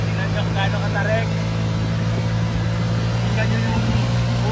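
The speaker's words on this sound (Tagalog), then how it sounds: "Tingnan nyo yung ugong ng makina." A vehicle engine drones steadily and loudly while climbing a steep road in Jose Abad Santos, Davao Occidental, with a constant low hum and people talking over it.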